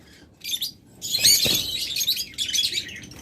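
Caged pet birds such as budgerigars, lovebirds and cockatiels at a bird seller, bursts of high, busy chirping and tweeting close by, overlapping calls starting and stopping over a few seconds, no voices.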